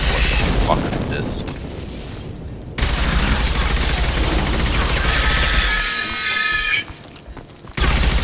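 Gunfire in the video game Mass Effect 2 rattles in loud, dense bursts with booming impacts, cutting in and out across the stretch amid a busy combat mix.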